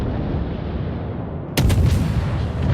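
The British Tier I cruiser Black Swan in World of Warships fires a gun salvo: a sudden sharp boom that cuts through a steady engine and sea rumble, with a short rolling tail and no talk.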